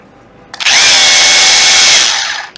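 A Makita brushless cordless drill spins up and runs steadily at high speed for about two seconds, loud and close, then winds down.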